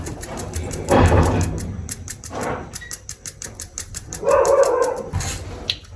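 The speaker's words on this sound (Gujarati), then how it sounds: "અમારા કૂતરા બહુ બોલે છે," Several dogs bark in bursts near a home kitchen, loud yips and barks clustered at the start and again later, with quieter gaps and a steady rhythmic ticking in the background.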